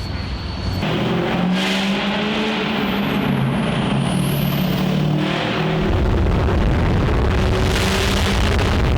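A Ford car engine roars loudly and builds in pitch, revving up and pulling away continuously for several seconds.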